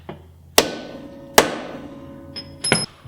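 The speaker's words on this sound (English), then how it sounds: "here's where I'll use the hammer and the punch" Three sharp metallic hammer strikes on a center punch, spaced unevenly, close and crisp, each ringing briefly before fading, with a faint tap before the last.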